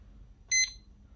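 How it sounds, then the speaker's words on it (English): A single short electronic timer beep sounds at the start of stripping 4-core 10mm SWA copper cable clamped in a vice, a brief clear tone in an otherwise quiet room. "we're going to start the timer"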